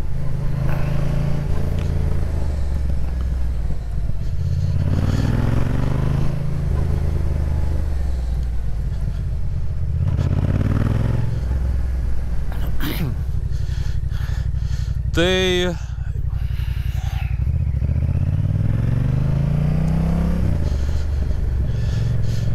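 A road motorcycle with poorly adjusted front and rear suspension and a wobbling front end is ridden on the road. The engine rumbles and rises in pitch through repeated accelerations, with wind noise and someone talking over it.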